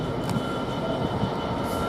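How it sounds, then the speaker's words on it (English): A GBRf Class 66 diesel freight train, 66780, passes through Peterborough railway station, a steady loud rumble and roar of locomotive and wagons filling the whole clip without a break. "Now we've got a freight train coming through here, which is the GBRf"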